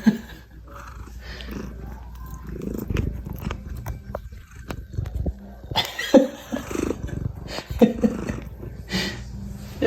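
A pet cat makes a run of growly, throaty vocalizations, some rough and roar-like, in bursts among household noise.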